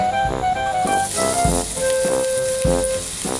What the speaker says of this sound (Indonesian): kita tumis bawangnya sampai agak kekuningan gitu warnanya ya